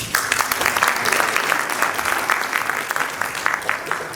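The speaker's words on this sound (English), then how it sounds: "I think that deserves an applause." Warm burst of applause from guests at a gala dinner celebrating the University of Nairobi School of Pharmacy's 50th anniversary, continuous clapping filling the room at fairly close range.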